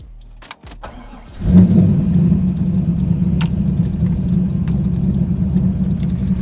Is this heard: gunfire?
no